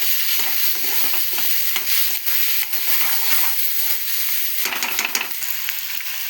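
Dry prawns and onions fry in a pan with a steady loud sizzle, while a spoon stirs and scrapes in bursts through it and no one speaks.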